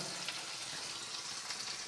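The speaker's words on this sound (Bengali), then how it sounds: "আর এখন এইগুলো পেঁয়াজ লঙ্কাগুলো ভাজা হচ্ছে।" Onions, green chillies and chopped ginger frying in hot oil in a pan, a steady dense sizzle with no voices.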